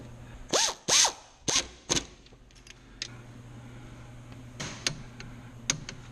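Jeep Grand Cherokee WJ brake caliper bolts tightened with a torque wrench: a few quick metallic ratchet clicks and clunks close by, then quieter scattered taps and clicks over a faint hum, no talking.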